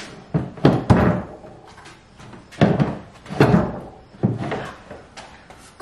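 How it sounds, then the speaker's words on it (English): Wooden drawers are pulled out of a furniture piece, giving a series of close knocks, scrapes and thunks in uneven bursts, fairly loud, with short pauses between handling sounds. "I'm also just gonna take the drawers out because it'll be easier when it comes time to clean and sand and everything."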